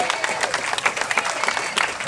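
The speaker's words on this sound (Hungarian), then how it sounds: "Mondom, ne tapsoljatok" Crowd at a political speech outside the Ukrainian embassy breaking into brief, scattered applause, close and fairly loud claps with no voices.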